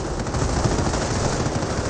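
Rapid small-arms and machine-gun fire aimed at a Panther tank in Company of Heroes, a dense, continuous rattle of shots under game noise with no pauses.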